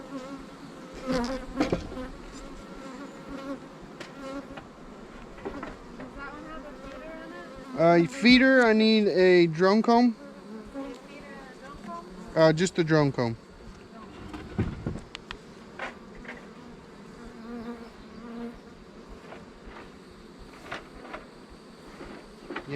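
Bees from a calm, friendly colony hum and buzz around an opened hive in a newly set up bee yard, a steady close drone running throughout beneath people talking, with a louder burst of activity partway through.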